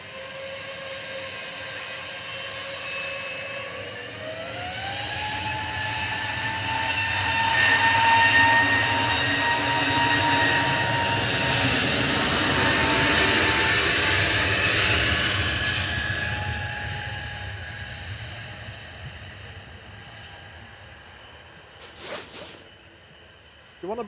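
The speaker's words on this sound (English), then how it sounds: "Departing in front of us, though, on 23 left is EasyJet 2005 to Bilbao. This is GUZLK and A320 Neo." An EasyJet Airbus A320neo departs runway 23 left at Manchester Airport, its jet roar building, peaking loud, then fading as it climbs away, with a rising engine whine and a short rustle near the end.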